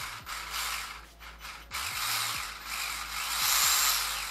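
Slipper clutch and spur gear on a Mini E-Revo VXL RC truck spinning up close, a whirring mechanical noise with a repeating ratcheting click and small changes in motor pitch, with no talking.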